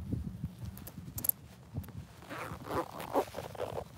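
A zipper being zipped up outdoors at night: a few short, close rasping pulls over quiet background noise.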